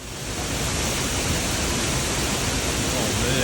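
A waterfall roars in a steady, dense wash of rushing water, close and continuous, with spray noise filling everything and no breaks or talk over it.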